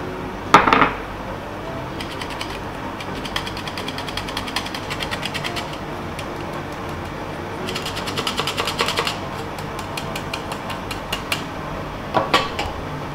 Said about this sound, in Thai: มาในส่วนของแป้งบ้างก็จะมีเป็นแป้งเค้กค่ะกับผงฟูร่อนทั้งหมดได้เลยค่ะ